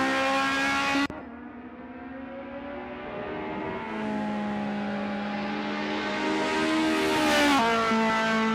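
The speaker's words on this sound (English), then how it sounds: "Oh, that Lexus. Wow, that noise is absolutely spectacular." A Lexus race car screams past on a track during pre-season testing for the 2000 WTCS season, its engine note climbing and wavering at high revs, loud and close, with no voices over it.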